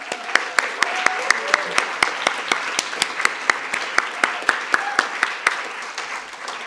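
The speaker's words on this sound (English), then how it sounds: "Please, with a round of applause." Conference audience at a climate and education forum claps for a panelist taking the stage, heard as a sparse run of distinct, evenly spaced handclaps fairly close by, continuing over several seconds with faint background murmur.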